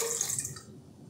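Water poured into the dented bowl of a Hobart N50 stand mixer for a double batch of bread dough: a short splash of about a second that fades quickly.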